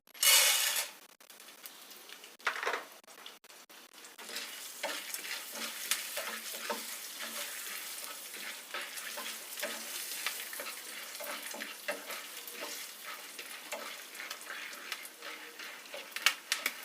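Corn kernels for caramel popcorn sizzle in hot oil in a pot, a steady close frying hiss with faint ticks and small clicks, after a sharp clatter at the start and no talk.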